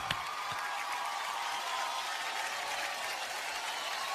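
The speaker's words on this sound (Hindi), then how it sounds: "इस टीम के लिए जोरदार तालियां होनी चाहिए" Studio audience applauding an award-winning TV drama team at a televised awards ceremony, a steady, even wash of clapping held for the whole span at moderate distance, with no clear voices over it.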